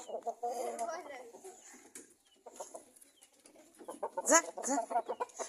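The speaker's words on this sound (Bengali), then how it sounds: "চোদ্দ থেকে পনেরো কেজি ওজন হবে এই মুরগিটার" A heavy four-month-old broiler hen, around fourteen to fifteen kilograms, clucks and croons in close, irregular bursts, with one sharper squawk near the end and a person talking softly in between.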